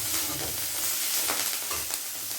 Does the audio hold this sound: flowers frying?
yes